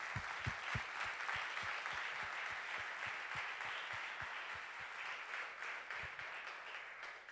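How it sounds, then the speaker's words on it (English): A conference audience claps together after a talk on botnet attack and defense, a dense, steady burst of applause filling the room at constant loudness for several seconds with no voices over it. "So give them an applause,"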